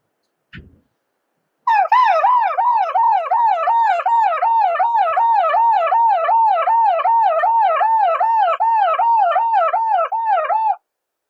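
A voice imitates an ambulance siren, wailing up and down rapidly and loudly for about nine seconds after a brief click.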